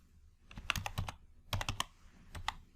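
Typing on a computer keyboard into an Excel search box: three short bursts of crisp, close key clicks separated by brief pauses.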